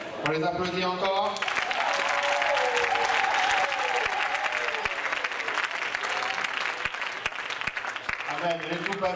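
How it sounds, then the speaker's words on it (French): Church audience applauding children after a Sunday school presentation, a sustained roar of clapping and crowd noise with singing and voices heard at the start and end. "On les applaudit encore."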